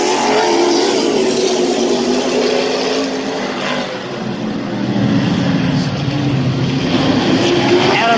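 Late model race cars in a heat race at Midvale Speedway, a loud, continuous roar of several engines that swells and dips as the pack passes, with a faint voice underneath.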